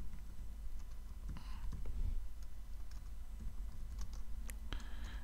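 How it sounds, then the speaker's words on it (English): Computer keyboard typing, quiet irregular key clicks in short bursts over a steady low hum, fairly faint and with no talking. "type in the name and surname and email of the author"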